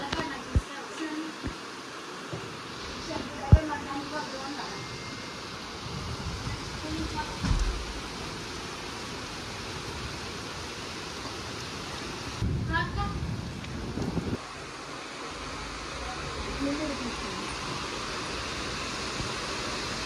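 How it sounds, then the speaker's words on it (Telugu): Heavy rain pours outside in a steady broadband hiss that runs throughout, with occasional knocks and brief rustling bursts nearby and a voice speaking now and then. "పెద్ద వర్షమే పడుతుందా?"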